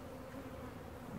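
Honey bees buzz at a single hive in the September heat, a dense, steady drone that holds evenly through the moment with no voices.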